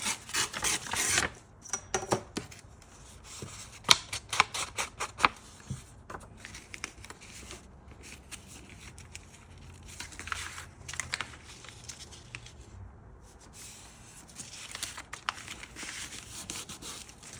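Paper is torn by hand while a trifold craft folio is made. Rapid rough ripping bursts come first, then slower rubbing and scraping as the sheet is worked. The sounds are close and moderately loud, with no voices.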